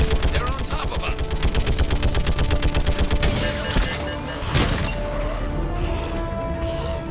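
Rapid turret fire from the video game Mass Effect 3 hammers loud and close in a fast, even stream for about three seconds, then gives way to a crash and a lower rumble of scattered shots.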